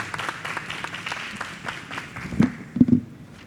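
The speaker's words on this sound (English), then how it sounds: "A round of applause for Betpass." Audience applause after a startup pitch at a gaming industry conference, moderate and thinning out, with a few louder individual claps near the end.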